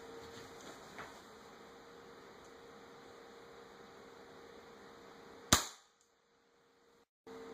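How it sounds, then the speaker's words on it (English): A CO2 pellet pistol fires a single sharp shot into ballistic gel, set against a steady hiss of background noise that cuts out right after the crack. "Here's the pellet pistol versus the gel."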